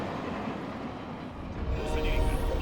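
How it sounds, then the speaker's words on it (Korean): A train in a video game, a second train being sent in during an assault, rumbles steadily and grows louder toward the end, a deep continuous rolling under busy battle ambience. "놈들이 두 번째 열차를 보내고 있다."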